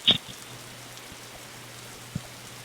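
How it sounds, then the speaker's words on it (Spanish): Rain falls in the forest of the video game 99 Nights in the Forest, a soft steady patter with a low hum beneath and a couple of brief clicks, no voices. "Yo creo que empezó a llover."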